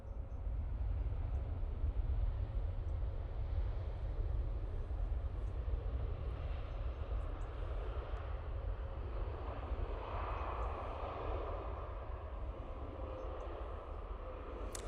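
A Qatar Airways airliner lands at Manchester Airport, its engine roar steady and loud throughout, a broad rumble that swells slightly toward the end with no talking over it.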